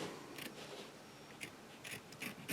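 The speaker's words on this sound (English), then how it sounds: "we're just going to cut around the fabric that's on the outside" Faint snipping of double curved scissors trimming fabric close to stitches, several short crisp cuts at irregular intervals over a quiet background.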